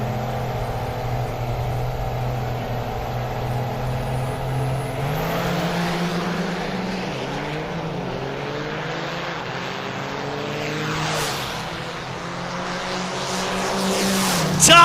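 Diesel trucks launching side by side at a drag racing event, their engines roaring loud and close with rising, shifting pitch and a steady crowd-like wash behind, climbing again toward the end of the run.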